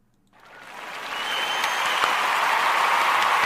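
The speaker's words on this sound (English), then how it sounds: "let's give them a round of applause" An audience breaks into a round of applause at a live show, swelling from silence into sustained, dense clapping that holds steady to the end.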